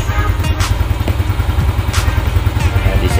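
A Yamaha Jupiter Z1 motorcycle that had error code 46 and sputtered under throttle runs loud and close with a steady pulsing engine rumble throughout.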